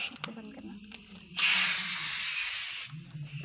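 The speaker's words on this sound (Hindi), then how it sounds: "ये तो बिना गैस के सीटी बज गई कुकर में यार" A pressure cooker filled with liquid nitrogen, off the gas, lets out one loud, steady hissing whistle of about a second and a half, with people talking just before and after.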